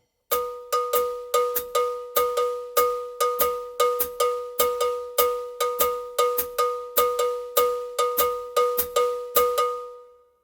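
A cowbell plays a Dorian mode bell pattern in an Afro-Cuban 12/8 feel, bright, loud metallic strikes repeating in an even, steady cycle, heard alone and close.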